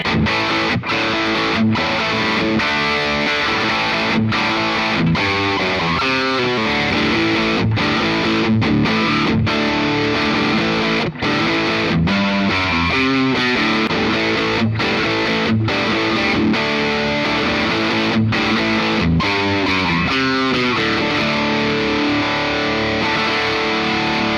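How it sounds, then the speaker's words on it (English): Overdriven electric guitar with a vintage-style pickup plays continuously for a long stretch, with chugging riffs broken by sharp, regular rhythmic stops, loud and up front. "For being a vintage style pickup, it's really overdriving."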